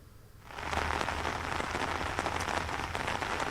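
Heavy, steady rain pours down in Delhi during a cold wave, a dense hiss of drops on surfaces that rises quickly and stays loud and even, with no voices.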